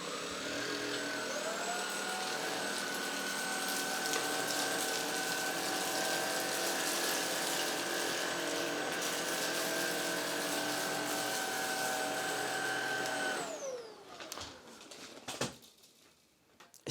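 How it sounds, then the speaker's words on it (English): ILIFE G80 cordless vacuum cleaner running in auto mode on hard floor, no brush bar, picking up rice and crackers; a loud, steady motor whine drones alone for about thirteen seconds, then winds down, followed by a few clunks. "I'm going to be using the cleaner in the auto mode first."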